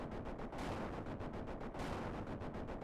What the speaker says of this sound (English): After every explosion